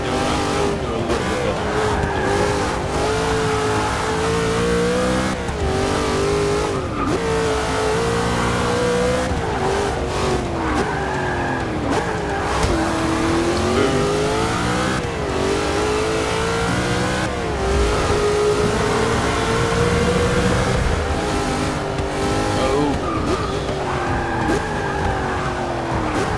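Race cars in the game Forza 6, engines revving and shifting through gears with tire squeals, loud and continuous, several cars howling together, with a voice now and then over the engines.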